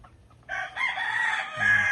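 A Raptor Sweater gamefowl rooster gives a single loud, close crow that starts after a brief quiet moment and holds steady to the end.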